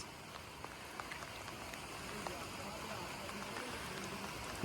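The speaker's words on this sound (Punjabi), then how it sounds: "ਮੀਂਹ ਵਰੀ ਜਾਂਦਾ ਵਾ" Continuous soft patter of rain falling, a steady faint wash of drops with a few sharper taps.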